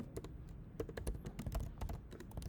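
Typing on a computer keyboard during C# scripting work: a quick, irregular run of close, crisp key clicks with brief pauses between bursts, no voices.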